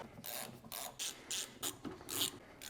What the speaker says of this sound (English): Now we'll torque these bolts to 25.